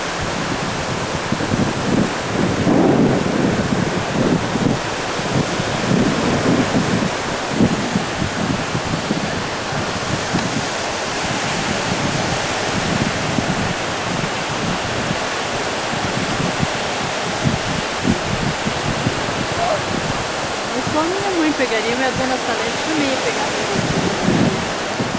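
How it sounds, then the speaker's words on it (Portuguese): Continuous surf from waves breaking at Lido beach, Venice, heard close and loud as an unbroken rushing wash mixed with wind buffeting, steady for the whole stretch with no distinct speech. "olha as ondas do mar batendo na água"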